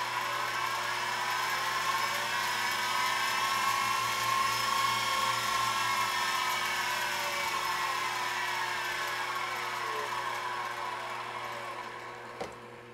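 Spindle motor on a control board, set near 1300 RPM, whines steadily and close, its tone rising slightly as it is cranked up, then fading near the end with a brief click.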